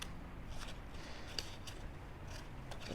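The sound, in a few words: scissors fussy cutting paper leaves for a card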